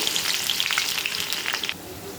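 Onion and garlic hit hot oil with whole bay leaf, cinnamon and cardamom, a loud close hissing sizzle with crackling pops that suddenly drops to a softer simmer near the end.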